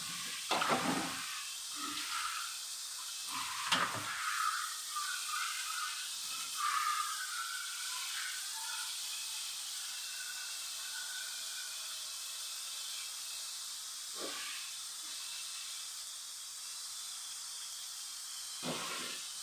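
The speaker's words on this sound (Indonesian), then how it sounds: "Rebus cabai teman-teman untuk jualan besok ya." A pot of chili peppers boiling, prepared for selling the next day, gives a steady hiss of steam and bubbling. A few soft knocks come early and near the end, with no talking.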